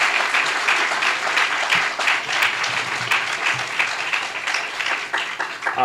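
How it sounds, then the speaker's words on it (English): A crowd at a YWCA groundbreaking ceremony in the Bronx applauds a young honoree, a full, loud burst of many hands clapping with scattered sharper individual claps, sustained throughout. "Let's give him a big round of applause"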